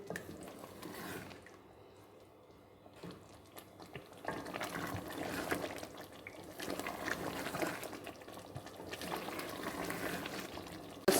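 Chicken korma gravy simmering in a pan after milk and cream go in, giving a steady bubbling sizzle that grows busier and louder after a quieter start, close by with no talk.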